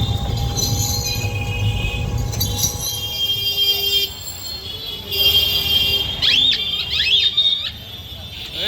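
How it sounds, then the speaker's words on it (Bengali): Train at Nabadwip Dham railway station after rain, a steady low rumble with high metallic wheel squeals and whining tones rising and bending later on, loud and close, with some background voices. "নবদ্বীপ ধাম যাওয়ার জন্য শর্টেস্ট এবং ইজিয়েস্ট রুট হচ্ছে এই ট্রেনটা"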